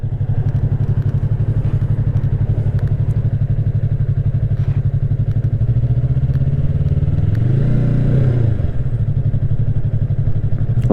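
Motorcycle engine drones steadily while riding on a road, a close, loud, continuous mid-pitched hum with a brief rise and fall in revs near the end, no talking.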